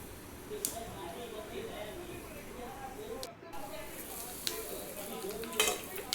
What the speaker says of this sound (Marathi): कढीपत्ता तडतडत आहे, तुम्ही बघू शकता.